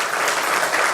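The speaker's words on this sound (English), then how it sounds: "a huge round of applause" Dense, continuous applause from a live youth conclave audience in Delhi, loud and even across the whole moment.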